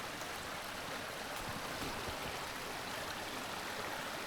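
A small stream runs into a pond in southern Norway, giving a steady, close broadband rush of flowing water with no talk over it.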